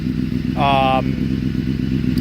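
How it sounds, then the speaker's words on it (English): A Honda CBR 600 motorcycle idles nearby with a steady, low, even engine rumble, while a short higher tonal whine rises briefly partway through. "The engine itself sounds great. It doesn't sound like it's struggling at all."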